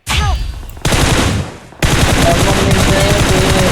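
Rapid bursts of gunfire in a PUBG match, loud and dense, with sharp cracks repeating over several seconds after a short gap near the start.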